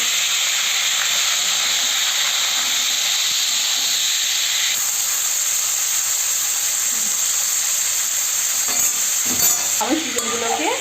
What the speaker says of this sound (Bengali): সেই চিকেনগুলোকে আমি ভেজে নেব